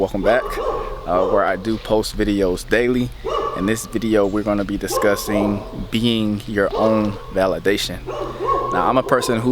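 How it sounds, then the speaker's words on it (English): Dogs bark and yip repeatedly in the background of an outdoor nature setting, moderately loud and frequent, running beneath a person speaking continuously throughout. "I do apologize for the dogs in the back."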